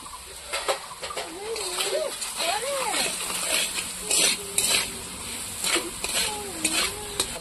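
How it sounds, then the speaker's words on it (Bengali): Potatoes fry with poppy seeds, sizzling quietly in a pan, with occasional scraping stirs, while a person talks over the cooking. "পোস্ত দিয়ে আমি আবার 2-3 মিনিট ভাজবো"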